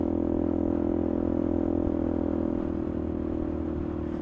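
A motorcycle fitted with an aftermarket Max Torque exhaust drones steadily while riding, a loud, constant low-pitched engine hum with no talk over it.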